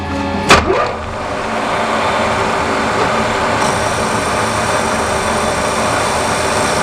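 A Rigel jewelry machine cuts metal at high revs and high cutting speed with light removal, throwing small sparks. A steady, loud broadband whir and hiss runs throughout, with a sharp clack near the start.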